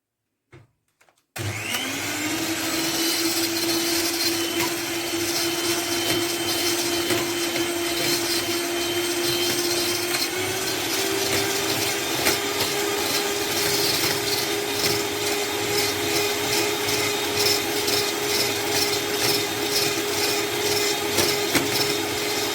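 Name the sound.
electric mixer beating boiled syrup until white and stretchy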